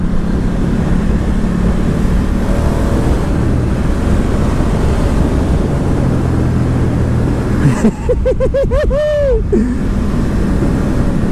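A 2019 Ducati Diavel 1260S motorcycle ridden at speed: a constant roar of rushing wind throughout, then a short burst of rising and falling engine revs near the end.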